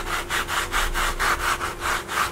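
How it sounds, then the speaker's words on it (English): Fingers rub back and forth across a gritty homemade pastel surface board, giving about ten soft, evenly spaced scratchy strokes in a close, quiet rhythm. "I think you could tell by that sound that it really does create a nice gritty surface to work on"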